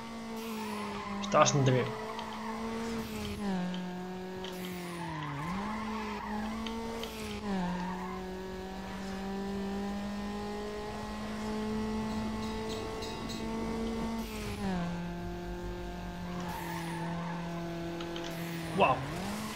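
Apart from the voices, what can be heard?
handbrake skid with nitro in video game Need for Speed Underground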